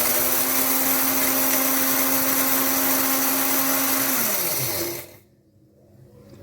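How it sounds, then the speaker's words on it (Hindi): An electric kitchen grinder whirs steadily, grinding fennel seeds and cardamom pods into a coarse powder, a loud continuous motor drone that winds down and stops near the end, leaving quiet room tone. "आधा चम्मच इलायची और इसको हम अच्छी तरह से ग्राइंड कर लेंगे।"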